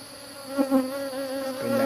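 Honey bees hum steadily around a crowded hive box full of worker bees just after the honey harvest, a close, continuous buzzing drone alone with slight swells as bees pass near.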